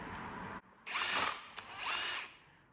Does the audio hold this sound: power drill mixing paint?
yes